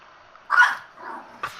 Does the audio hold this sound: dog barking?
yes